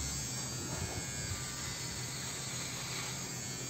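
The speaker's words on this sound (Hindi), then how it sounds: "तो ये मैंने स्टार्ट किया है ट्रिमर, अभी देखते हैं कैसा कटता है।" An electric hair trimmer cuts hair during a home haircut outdoors in wind, a steady buzzing drone mixed with broadband wind noise throughout, faint and continuous with no speech.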